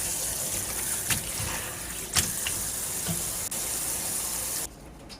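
Cold running water from a tap pours steadily over radish greens being rinsed in a sink, a continuous gushing wash with a few brief splashes, close and moderately loud, stopping abruptly near the end.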